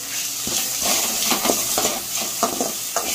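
Chopped ginger sautéed in a pan, a steady soft sizzle with a spoon scraping and stirring in irregular strokes, close and moderately quiet, no voices.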